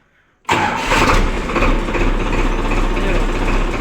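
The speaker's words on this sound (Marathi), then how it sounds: "आणि आता चालू होईल ट्रॅक्टर" After a moment of quiet, a heavy diesel tractor engine cranks and roars to life, then settles into a loud, steady rumbling idle.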